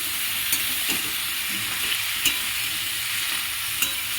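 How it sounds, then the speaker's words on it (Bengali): Potatoes with poppy seed paste sizzle in a frying pan while being stirred, a steady close hiss punctuated by a few sharp scraping clicks at irregular intervals. "এরপরে এটা একটু নেড়ে নেবে"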